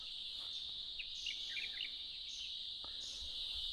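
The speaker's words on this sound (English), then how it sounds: "Everything you can hear is made by the bugs, cicadas, birds." A steady, shrill cicada drone dominates in a rural landscape in China, with a few quick bird chirps and twitters popping up faintly in the background.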